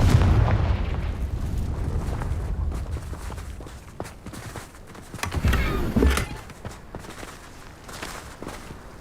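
A fire spell blast in Hogwarts Legacy, a loud booming burst at the start with rumbling impacts and a second heavy explosion around midway, fading into lighter crackling debris.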